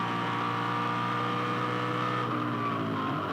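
Ford V8 Supercars race at Hidden Valley Raceway in 2005, a steady high-pitched engine scream held at full throttle through the whole stretch, loud and continuous with no break.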